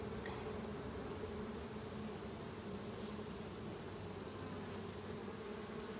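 Honey bees buzz steadily around open hive frames during a hive inspection, a dense continuous drone near the microphone that holds from start to finish with no speech over it.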